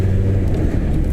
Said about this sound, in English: there's one of them funny little Toyota things.